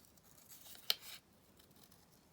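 Scissors snip a paper circle for a craft project in a quiet room, with one crisp close cut standing out amid faint soft rustling.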